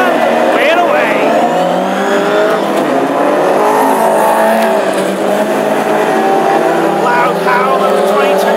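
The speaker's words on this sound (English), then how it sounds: "Loud howl of the 22 car of Rob Montagner as he thunders down the home straight for the first time." Classic hot rod race cars at a Birmingham meeting, led by the 22 car of Rob Montagner, howl loudly down the home straight in a sustained, dense engine roar with a race commentator talking over it.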